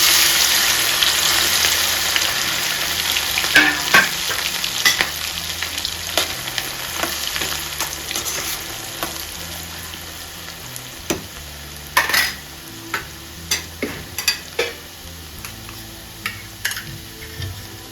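Eggs for an egg pickle fry in hot oil with a bright, steady sizzle, and scattered sharp ticks and taps of a utensil against the pan sound up close.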